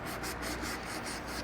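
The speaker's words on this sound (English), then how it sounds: "rub some acetone around it," Cloth rubbing acetone around the edge of a custom Davidson Audio 8-inch speaker lid to clean off sanding residue and overspray, a steady close scrubbing hiss with rhythmic back-and-forth strokes and no voices.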